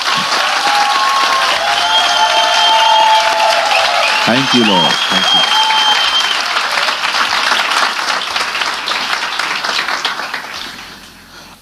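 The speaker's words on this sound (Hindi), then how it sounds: "क्या हम सब मिलके यीशु के लिए ताली बजा सकते हैं?" A church congregation applauds for Jesus, sustained dense clapping close and loud throughout, fading toward the end, with a voice speaking briefly over it.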